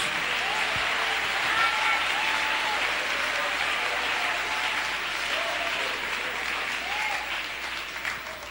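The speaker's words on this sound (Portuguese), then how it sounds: "desocupem as mãos, batam palmas e glorifiquem a Jesus" A church congregation claps together in a sustained, even roar that stays steady for over eight seconds before easing slightly, while faint voices and a sung note come through underneath.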